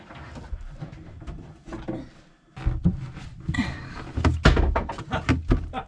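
Drawers are pulled out inside a sailboat cabin: several close knocks, scrapes and hollow thumps come at an irregular pace, with some clattering contents and faint background noise in between.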